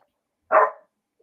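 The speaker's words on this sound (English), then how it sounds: "I'm sorry, that was my dog." One short, sharp dog bark rings out alone in an otherwise silent room, moderately loud and close, lasting under half a second.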